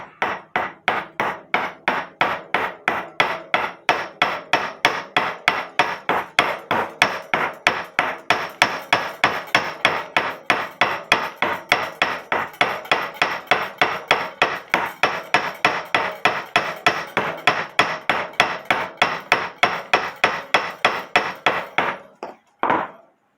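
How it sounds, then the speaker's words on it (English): A ball peen hammer taps the metal of a grandfather clock's barrel spring rapidly and steadily, dozens of sharp ringing strikes at an even rhythm, close and loud, ending abruptly. "Now using my ball peen hammer, I'm going to ping around it."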